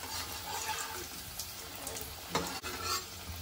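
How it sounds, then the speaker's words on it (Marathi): Coriander vadi shallow frying in a pan: a steady quiet sizzle with faint scraping and stirring, one brief louder clatter near the end. "दोन्ही बाजूने खरपूस तळून घ्यायचे आहेत"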